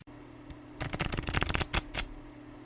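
A deck of tarot cards gets shuffled in one quick riffle, a short crisp fluttering burst that ends with a couple of soft taps, close by with no voices.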